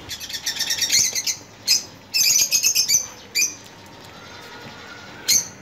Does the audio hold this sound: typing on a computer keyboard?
no